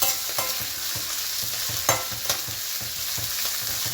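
Green chillies frying in oil in a pan while flour upma is being made, a steady close sizzle with soft rhythmic stirring scrapes and occasional pops, no voices.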